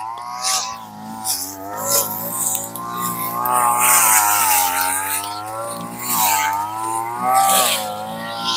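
A grass cutter engine runs close by in a continuous droning whine that swells and eases as the throttle rises and falls.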